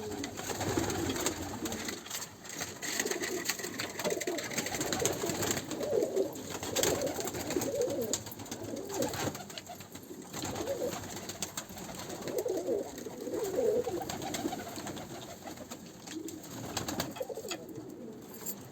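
Pet pigeons in a coop coo repeatedly, soft, low, throaty calls rising and falling in overlapping bursts from several birds nearby, with rustling and no talking.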